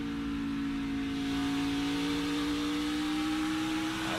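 A race car engine holds a steady high throttle on track during practice or qualifying for the 2023 Food City 300, a loud continuous drone with a stable pitch and strong harmonics, no speech.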